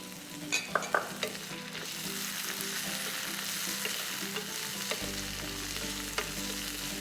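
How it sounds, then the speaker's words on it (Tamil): Onions frying in a pan for veg kothu parotta, a soft continuous sizzle with a few sharp clicks of stirring early on and a low hum joining later, no talking. "இப்போ லைட்டாக இந்த ஆனியன் கொஞ்சம் ஃப்ரை ஆகி வரப்போ"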